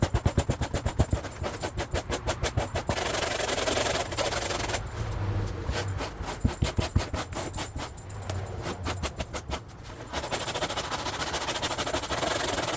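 Old foam being scraped off a car headliner, heard as rapid, rhythmic rasping strokes close by, coming in quick bursts with brief pauses between runs.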